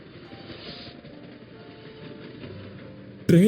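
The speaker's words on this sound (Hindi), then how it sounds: "ट्रेन जब स्टेशन पर रुकी" A train runs on rails on the evening service to Badalpur village, giving a steady, moderately loud rolling rumble before a sudden louder, brighter burst of sound at the very end.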